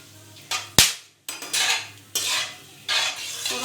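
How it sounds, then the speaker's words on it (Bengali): Two bay leaves and whole garam masala dropped into hot oil in a kadai, giving sharp clinks and bursts of crackling sizzle that come in several loud waves, close up with no talk. "দুটো তেজপাতা, গোটা গরম মশলা আমি ফোড়ন দিয়ে দিলাম"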